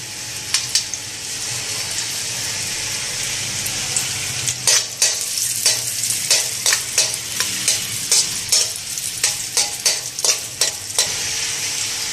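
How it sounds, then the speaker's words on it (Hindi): Raisins sizzle and fry in hot ghee in a pan, a steady close crackle broken by sharp scraping and stirring strokes from around the middle onward. "किशमिश, इसको भी मैं ना फ्राई कर लेती हूँ घी के अंदर।"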